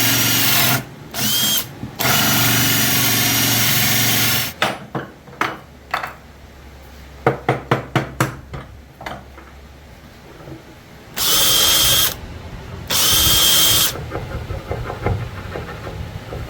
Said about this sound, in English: we're going to go ahead and try to drill this out and follow that angle.